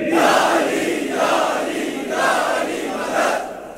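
A large crowd at a religious celebration in Kargil chants in unison, with four rhythmic swells of massed voices rising and falling in a regular call pattern, loud and reverberant.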